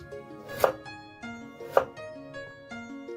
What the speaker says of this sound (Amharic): ስለዚህ አሁን ወደ ድንች ከተፋዬ እገባለሁ ማለት ነው።